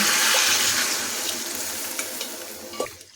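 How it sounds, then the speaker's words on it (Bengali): Water is poured into a pan of potato curry frying on a high flame, a loud sizzling hiss that swells and then fades, with a few stirring clinks near the end. "এখন এর মধ্যে দিচ্ছি পরিমাণ মতো জল।"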